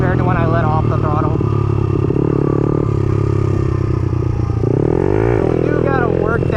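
A motorcycle engine drones loudly and steadily, its pitch sinking and shifting as the throttle is let off, with someone talking over it throughout.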